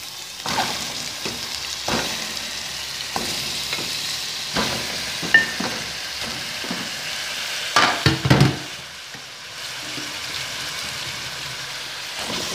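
Washed bone-in chicken thighs sizzle in a pan over onion and green pepper for a Chilean chicken-and-peas dish, with a steady close frying hiss broken by clattering stirs and scrapes.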